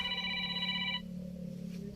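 A telephone bell rings in a steady electronic trill for about a second, then cuts off, leaving a low background hum.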